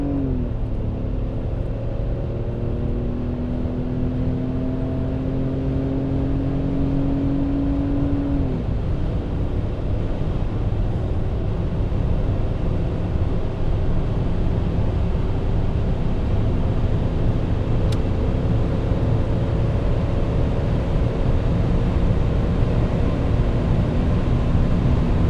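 A V12 BMW E38 750iL with M73 engine accelerates hard, a steady loud cabin drone with engine tones rising through the gears, then holding a smooth sustained roar at high speed.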